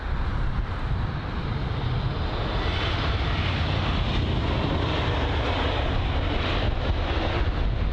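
A British Airways Airbus A320-200 lands at London Heathrow after a flight of about two and a half hours, its engines a loud, steady, broadband roar that holds throughout with no voices.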